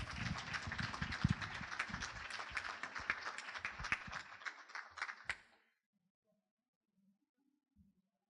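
A conference audience claps as students walk in for a panel, steady dense applause for about five seconds that stops abruptly, followed by near silence.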